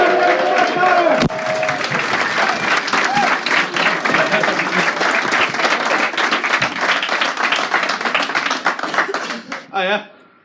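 A live audience claps and cheers in sustained, dense applause welcoming a stand-up comedian to the stage, the clapping swelling loud and steady before tapering off near the end as a voice starts to speak.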